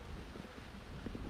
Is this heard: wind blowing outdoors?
yes